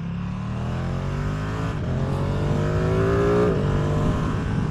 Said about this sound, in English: It's got a good sound for stock exhaust.